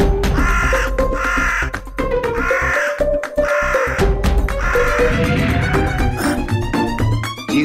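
A crow caws repeatedly in loud, rhythmic harsh bursts, layered over steady background music.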